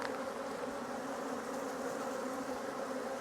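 Honey bees drone steadily from an open hive at a new apiary, a dense, continuous buzz at close range with no pauses.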